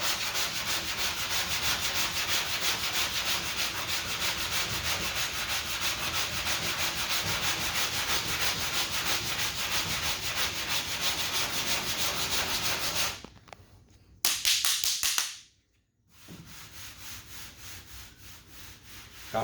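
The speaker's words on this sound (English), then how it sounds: "Of course, this up here needs to be sanded." A repaired dent in a car body panel is sanded by hand, a steady rhythmic rasping scrub close up that continues for a long stretch, then breaks off in short pauses near the end.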